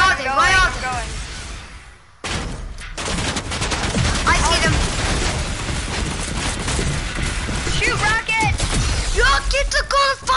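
Rapid video game gunfire rattles in dense bursts during a PS4 shooter match, loud and close, with a player's excited voice talking over the shots.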